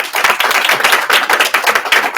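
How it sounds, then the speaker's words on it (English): Applause for panelists at a fireside chat celebrating Alaskan women entrepreneurs during Women's History Month: dense, steady clapping from an audience, fairly loud and continuous throughout with no talk over it. "let's start by giving our panelists a big round of applause"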